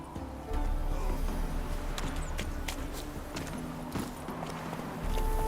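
Horse hooves clop steadily beneath a rider in The Witcher 3, a brisk, even rhythm of hoofbeats, close and clear over a low ambient game backdrop.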